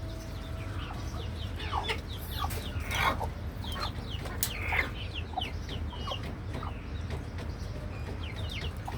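Hens on a rooftop farm in Bangladesh clucking repeatedly at moderate distance, irregular calls scattered over a steady background hum, with one bird louder than the rest.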